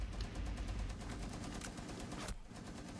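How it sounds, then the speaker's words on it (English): Rapid automatic gunfire from a turret in the video game Rainbow Six Siege, a dense, loud stream of shots for over two seconds before breaking off abruptly. "there is a turret shooting at us"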